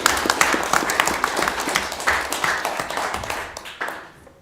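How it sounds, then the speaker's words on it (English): A crowd claps steadily for a few seconds at a city council meeting, the applause gradually thinning and fading toward the end. "Another huge round of applause for our clerk, Kathy Montel."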